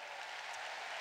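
A church congregation at a Christian event in Resistencia, Chaco applauds with a steady, dense wash of clapping that stays loud and even for the whole short moment, with no voices standing out.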